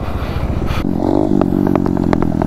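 A TVS Apache motorcycle at wheelie stunt practice: after a short scrape, its engine revs up close and loud and holds a steady, rising drone with light mechanical clatter.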